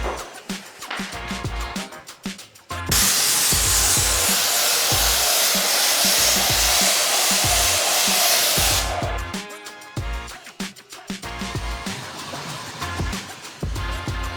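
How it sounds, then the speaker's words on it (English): A Mark 5 spray gun sprays Alseco FX plaster into a hopper, a loud steady hiss lasting about six seconds, framed before and after by clattering machine and handling noise. "First, I'm going to spray some product into the hopper with my Mark 5 spray gun and some Alseco FX plaster in the machine."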